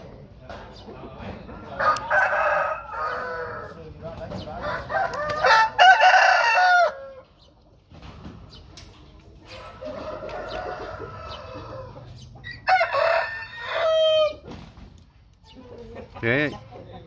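Rooster crowing in repeated loud bursts separated by pauses, with clucking fowl and a voice in the background.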